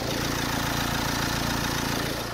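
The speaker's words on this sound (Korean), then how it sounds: "디젤 엔진이라 어느 정도 소음은 있지만 차량 관리 잘 된 만큼 엔진 잡음, 벨트 잡음 하나 나는 거 없는" Diesel engine of a Renault QM6 mid-size SUV idling with the bonnet open, recorded up close as a steady low throbbing rumble with a fine, even mechanical clatter and no talk.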